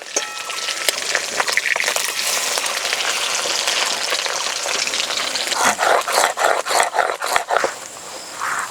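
Bata fish fry in oil in a pan, a loud, continuous close sizzle with bursts of spattering and crackling toward the end as the pieces are moved.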